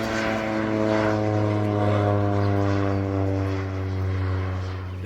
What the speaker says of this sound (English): The airplane is scaring the chickens,